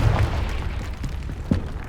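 A Confringo fire spell in the Hogwarts Legacy video game bursts with a deep, booming blast, then a second heavy impact follows about a second later over a rumbling game soundscape.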